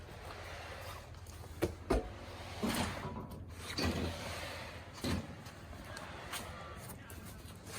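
About half a pound of loose airsoft pellets, used for balancing, rattle and clatter inside a spinning wheel, with a few louder knocks standing out over a steady low rumble.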